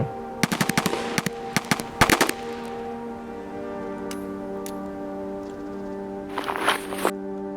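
Bursts of AK-12 rifle fire in the shooter game Escape from Tarkov on the Customs map: several rapid volleys crack out at first, then fade to a steady electronic tone, with a short distant burst near the end.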